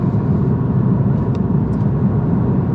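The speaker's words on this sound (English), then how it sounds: "We are driving a Mahindra Scorpio" A Mahindra Scorpio rolls through the streets of Amritsar, India, its engine and road noise a steady, close rumble filling the cabin, with faint higher-pitched traffic sounds drifting in now and then.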